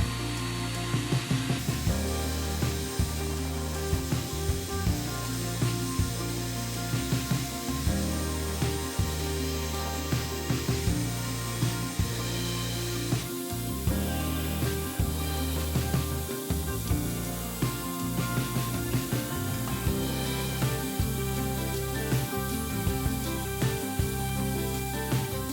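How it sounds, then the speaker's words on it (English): A table saw rips a wooden board lengthwise for a tabletop, its motor whining steadily and loudly for the whole stretch with rhythmic changes in pitch as the blade bites through the wood. "We'll rip down one of the boards on the table saw."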